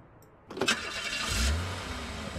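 An old car engine in the Art of Murder video game, started with the ignition key: a short cranking whir, then the motor catches and settles into a low, steady idle, close and moderately loud.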